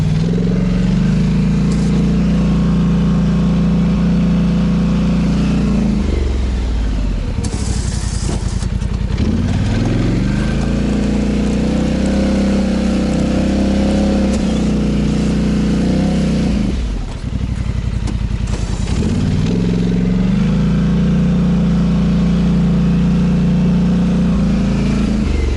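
A Polaris Sportsman XP 1000 ATV fitted with Maxxis Bighorn tires ploughs heavy snow in low gear, its engine droning loudly and repeatedly revving up, dropping and surging again as it pushes snow into a bank.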